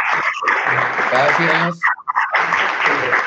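Applause from an audience at a conference on canine temperament, a dense steady clatter of many clapping hands filling the clip, with a brief dip near the middle and a voice speaking over it.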